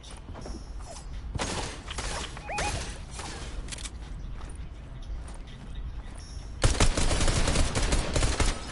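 Gunfire from a pistol and an assault rifle rattles through a video game, with bursts of rapid shots and clicks, then a louder sustained volley near the end.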